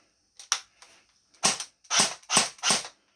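Cyma CM.028 AK-47 airsoft gun firing on automatic with a battery low on charge: short, sharp bursts of rapid mechanical cracks, close and loud, separated by brief pauses.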